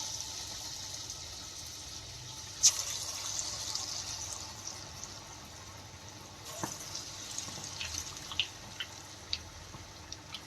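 Battered chillies for aloo mirchi bhajia go into hot oil one at a time, each drop bringing a brief burst of bubbling. A soft fizz continues between drops, with faint scattered pops that become more frequent later on.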